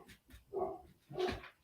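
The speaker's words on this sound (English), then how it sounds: "Dog barking." A dog barks twice, close by, with two short, sharp yelps about half a second apart and nothing else around them.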